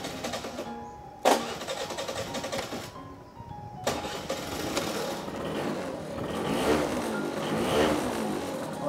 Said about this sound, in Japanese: ちょっとエンジンかけてみましょうか。 ツーストなんで結構ねツーストだなっていう感じがします